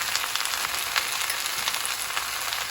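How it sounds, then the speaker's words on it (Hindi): Potatoes fry in a pan with onions, chilies, salt and paprika, making a continuous, close crackling sizzle with small pops throughout. "अब मैंने ये स्वीबल और मिर्चें डाली है और नमक डाल दी है, पापरिका। 5 मिनट फ्राई करेंगे बस"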